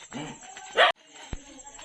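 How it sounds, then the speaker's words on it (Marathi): A pet dog gives a short, loud bark amid people talking nearby during Ganesh festival preparations, with a single sharp knock a moment later. "एकांताची पालेली कुत्री आहेत"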